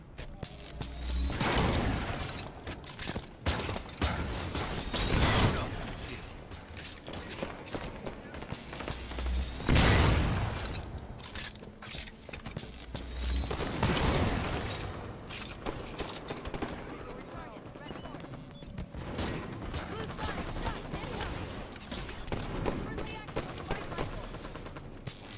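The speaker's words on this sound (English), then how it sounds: "Hostile fire." Gunfire in Halo 5 Team Slayer multiplayer, bursts of shots recurring every few seconds at moderate volume among game noise and a background voice, spread across the whole stretch.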